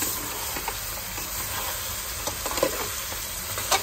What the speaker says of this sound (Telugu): 10 నిమిషాలు ఫ్రై అయినాక ఇందులో కారపొడి, అల్లం వెల్లుల్లి పేస్ట్, సాల్ట్ వేసుకొని ఒకసారి కలపాలి